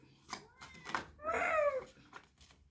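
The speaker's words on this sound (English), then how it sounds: "She's the best cat ever." A cat meows once, a rising and falling harmonic call near the microphone, between short bursts of nearby household sounds and soft voices.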